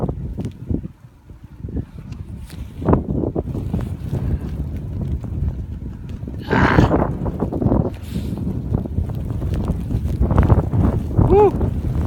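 Strong blizzard wind buffets the microphone in a steady, roaring rush with gusts that swell and fade, while people talk over it throughout.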